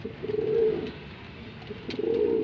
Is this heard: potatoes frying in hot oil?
no